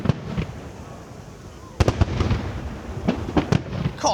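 Fireworks exploding in a rapid irregular series of sharp cracks and booms, several loud bursts clustered after a quieter opening, with a voice speaking faintly in between.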